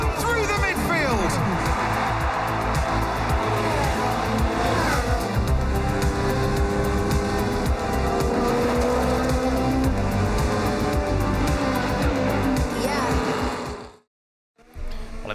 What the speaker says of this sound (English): Perez makes contact with Charles Leclerc as Sonny Hayes threads that Apex GP car through the midfield.